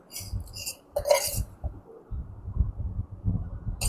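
A container of idli podi is screwed tightly shut, giving a few close clinks and scraping knocks of lid against jar in quick succession.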